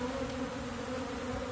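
A honey bee swarm gathered in a hive box hums with a steady, dense buzz heard close and alone throughout.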